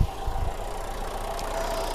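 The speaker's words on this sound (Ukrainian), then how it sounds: "Заведемо, послухаємо, як працює двигун." A 2014 Renault Kangoo engine idling steadily with a low, even rumble, close by, a brief roughness at the start before it settles.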